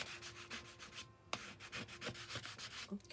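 A hand tool rubbing over paper to burnish it while the inside of a small envelope folio is decorated: quiet, close, rhythmic scraping strokes in an even back-and-forth pattern with one short pause, and no voices.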